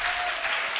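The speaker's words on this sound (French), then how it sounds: "Oh, acclame Jésus." Congregation clapping together during a Sunday church worship service, a short dense burst of steady applause from a crowd filling the room, with a sustained tone underneath.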